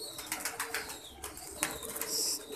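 Soft pigeon sounds with rustling and fluttering wings nearby, short coos and shuffles in an enclosed breeding section as pigeons feed their young, fairly quiet throughout.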